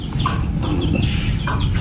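Hens cluck in short bursts against a steady, noisy background. The calls come close and repeat irregularly.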